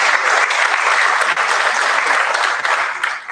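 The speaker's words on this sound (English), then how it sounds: "So if we could give her a round of applause" Sustained audience applause at a choir awards and senior recognition event, dense and steady for several seconds, close and loud, dipping briefly before tapering at the end.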